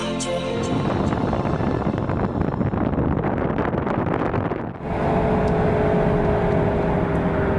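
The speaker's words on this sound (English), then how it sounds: "So we are now driving through this valley." A car drives through a valley in Papua New Guinea, its steady broadband road and engine rumble loud and continuous, with wind buffeting the microphone; the tone shifts briefly near the end as a faint whine emerges.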